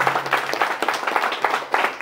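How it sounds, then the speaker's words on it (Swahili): A crowd applauds a politician, Dr. Mwinyi, at an outdoor CCM party rally, with dense, steady clapping and cheering that rolls on without pause throughout. "Mpigeni makofi Dr. Mwinyi."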